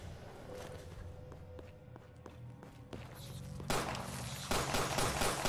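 Gunshots fired at a Rad Roach in Fallout 4, a series of evenly spaced taps and shots, ending in louder, noisier bursts.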